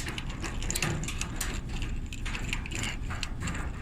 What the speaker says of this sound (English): We're gonna get a socket here. We're gonna pop those screws out.